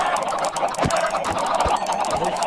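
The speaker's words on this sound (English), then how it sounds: "There's too many chickens." Video game poultry clucks and gobbles in short bursts over a steady background hum, several calls scattered across a couple of seconds.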